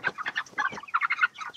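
Chickens of average size cluck repeatedly while being weighed on a farm, a busy run of close, moderately loud calls with no talk over them.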